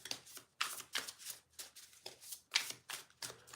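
Tarot cards are shuffled by hand in quick, quiet papery bursts, about ten short riffles in an uneven rhythm, heard up close.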